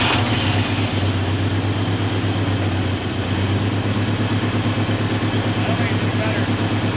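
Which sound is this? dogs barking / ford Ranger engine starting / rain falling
ford Ranger engine starting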